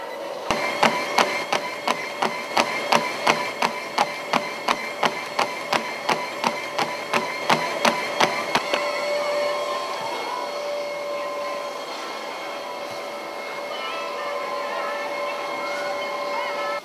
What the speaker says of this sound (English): getting ready to do my treadmill interval workout, which is gonna be pretty tough